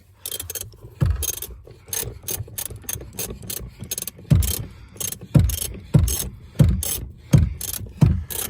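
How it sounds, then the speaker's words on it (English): Ratchet fitted with a 13mm socket and a swivel joint backs out bolts on a Ford F150 door actuator, giving bursts of rapid pawl clicks in a repeated rhythm of short strokes, close and fairly loud, with no talking. "This 13mm for the top one, but for this I have to use the swivel."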